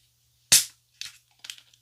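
A bottle of tonic water is opened for a rum mixed drink: one sharp, close carbonation hiss bursts out, followed by two shorter, softer fizzing spurts.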